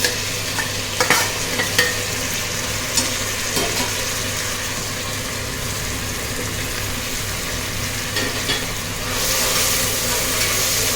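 Garlic and mint leaves sauté in a pan for a coconut milk kushka, with a constant sizzle, repeated stirring scrapes up close, and the frying swelling louder near the end.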